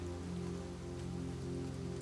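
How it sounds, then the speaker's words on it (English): Light rain shower falling steadily on leaves and surfaces, a soft continuous patter of raindrops at an even level throughout, with no voices. "This light rain shower seems like the perfect way to end your day."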